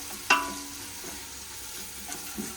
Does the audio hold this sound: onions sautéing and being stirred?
yes